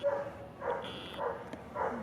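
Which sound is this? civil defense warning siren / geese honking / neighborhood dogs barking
neighborhood dogs barking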